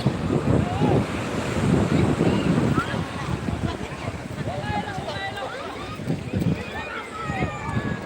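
Surf washes onto the sea beach at Old Digha where people are bathing, a continuous roar of breaking waves mixed with gusty wind buffeting the microphone and a murmur of crowd voices.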